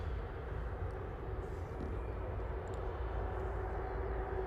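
Virgin airliner taxiing at Manchester Airport gives a steady, distant engine rumble and whine, even in level throughout with no talk over it.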